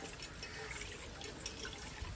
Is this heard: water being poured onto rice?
yes